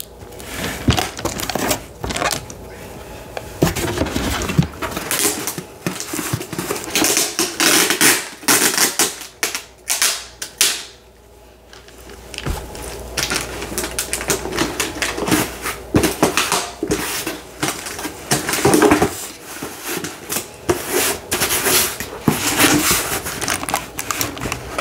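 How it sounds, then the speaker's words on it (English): Clothes hangers clatter and clink in loose, irregular bursts through a soft-spoken relaxation session, close and fairly loud, with brief pauses and a quieter stretch midway. "Very clearly hangers."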